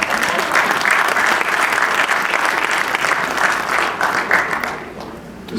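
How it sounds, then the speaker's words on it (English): Applause from an audience at an intercommunity gathering of Black and Jewish leaders, loud and sustained clapping from a large crowd that eases off near the end. "To Dr. Brother Donnie Trotter, please give him a round of applause."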